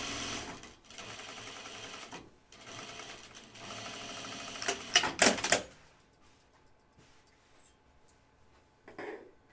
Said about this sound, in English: So let's sew this together.